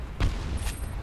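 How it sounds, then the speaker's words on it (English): A grenade goes off in the shooter game Homefront during a team deathmatch on the Suburbs map: a loud, low booming burst followed half a second later by a second, sharper blast over rumbling game noise, with no voices. "Grenade out."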